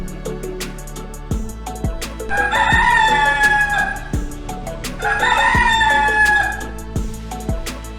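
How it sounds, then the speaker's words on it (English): A rooster crows twice in a farm animal sound quiz, each long, loud call rising and falling over about two seconds, with sharp clucks and background farmyard noise between the crows. "The answer is D. Rooster."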